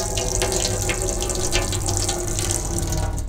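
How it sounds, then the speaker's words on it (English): Caravan water tap runs steadily while the pump draws water through the system, a continuous gushing flow with a low pump hum underneath and no talking. "We can then put our taps on"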